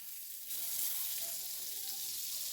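Pav bread toasting in butter on a hot pan, a soft continuous sizzle that rises after a brief quieter start and holds steady, fairly faint and with no talk.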